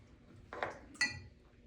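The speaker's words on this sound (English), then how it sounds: "I want to take this here, mix that Tabasco sauce up." A utensil clinks twice against a bowl while mixing Tabasco sauce for chitterlings, two bright close clinks about half a second apart in a quiet room.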